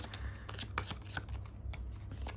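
A deck of tarot cards is shuffled up close, a run of crisp, papery riffles and flutters over a low steady hum, with no voice.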